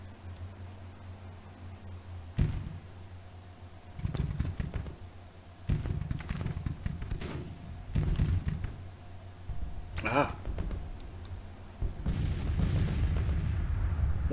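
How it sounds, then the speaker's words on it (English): Artillery fire from a battery of 24-pound howitzers in the Civil War strategy game Grand Tactician, several booming shots at irregular intervals over a constant low background rumble, no talking. "This battalion, or battery, 24-pound howitzers, engaged,"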